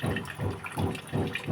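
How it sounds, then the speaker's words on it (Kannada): Cooking water is strained off boiled chana dal into another bowl, making a continuous, close rushing pour that swells and eases in pulses. No one speaks. "ಈ ನೀರು ಜಾನ್ಸ್ಕೊಂಡು ನಾವು ಕಟ್ಟಿನ ಸಾಂಬಾರು ಮಾಡ್ತೀವಿ."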